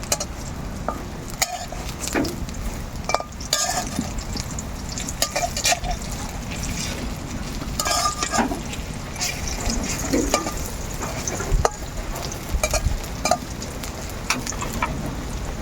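Eggplant slices coated in semolina and gram flour fry gently in a pan, a soft continuous crackle and bubbling with occasional clinks and shuffles as they are turned, fairly quiet and close.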